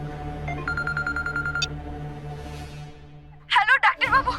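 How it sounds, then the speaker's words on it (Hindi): A phone ringtone in a Hindi TV serial scene: a short run of bright electronic tone pulses over a low music bed, then voices begin talking toward the end. "कहना का फोन"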